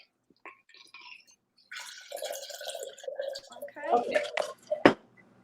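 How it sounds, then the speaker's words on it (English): A cocktail is poured over ice at a fall happy hour, with trickling, dripping liquid and a few clinks rising toward the end, under people's talk. "now we're going to pour our cocktail right over the ice"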